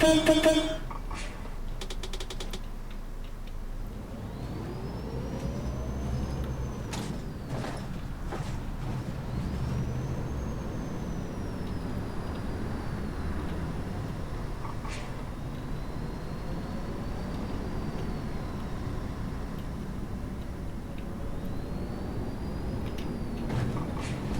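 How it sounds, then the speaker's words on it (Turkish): A Volvo double-decker bus engine in the Omsi 2 driving simulator hums low and steady over a long stretch, with rising and falling whines as it accelerates, door and mechanism clunks near the start, and no talk. "Aracın sesi çok iyi arkadaşlar. İçten de dıştan da."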